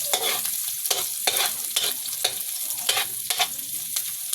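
Adobo sa gata sizzling loudly in a pan while a utensil stirs it in a quick, uneven rhythm of scraping strokes over a constant frying hiss, close up and with no voices.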